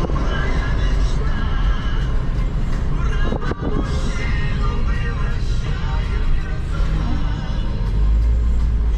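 A horse whinnies amid continuous loud rumbling noise and indistinct voices, with the neigh partly buried in the busy outdoor din.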